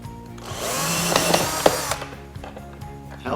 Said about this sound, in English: I can put a little bit of weight into this drill while I screw this hole